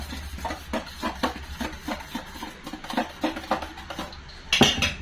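Eggs, chopped onion and chillies mixed by hand in a bowl, an utensil clinking and scraping in a quick irregular rhythm, close and moderately loud with a sharper knock near the end.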